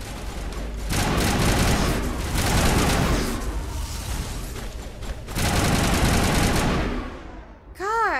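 Gunfire in Mass Effect Legendary Edition: loud, sustained automatic bursts fill the scene in long waves, ending with a short electronic warble.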